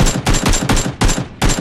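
Automatic gunfire in the video game PUBG, about five rapid bursts of loud, sharp shots in quick succession, close and without talk.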